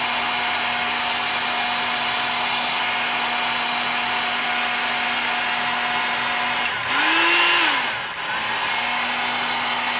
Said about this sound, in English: we're going to use low heat with this heat gun. We're going to just start heating it up a little bit